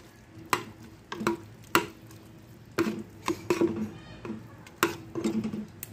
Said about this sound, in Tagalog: Ayan, haluin natin na mabuti.